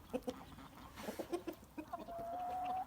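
White Bielefelder hens clucking nearby in short soft bursts, followed by a drawn-out, higher-pitched tonal call that holds for the last second, no talking.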